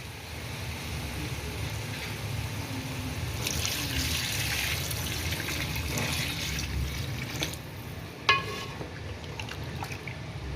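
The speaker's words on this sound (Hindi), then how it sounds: "इसकी स्मेल ख़त्म हो जाए तो इसमें आपने 4 गिलास पानी ऐड करना है।" Steady watery rush with splashing as four glasses of water are poured into a pot of chicken pulao, continuous and close, with a brief clatter near the end.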